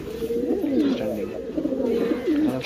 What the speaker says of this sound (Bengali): মাদি পায়রা এটা।